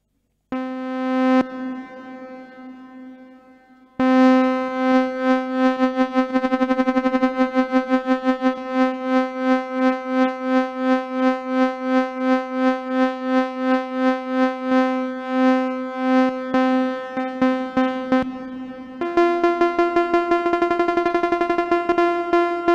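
A modular synthesizer's steady drone with LFO-driven pulsing, wobbling repetitions, later shifting pitch, washed in a long, spacious reverb tail.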